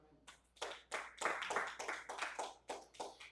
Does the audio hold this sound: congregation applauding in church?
yes